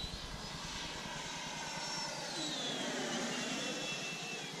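A Freewing F-22 Raptor RC model jet flies at cruise speed, its electric ducted fan giving a steady, fairly faint whine and airy rush heard from on board, with a slowly shifting pitch.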